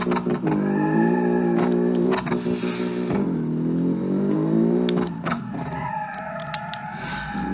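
A simulated car engine in an autocross run in the Automation game revs hard, rising and dropping in pitch through gear changes and corners, loud and close with brief clattering breaks.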